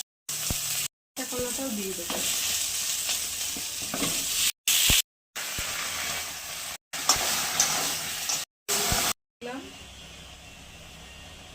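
Vegetables fry in a wok with a loud, crackling sizzle and stirring scrapes, cut by short silent gaps; someone speaks briefly over the cooking.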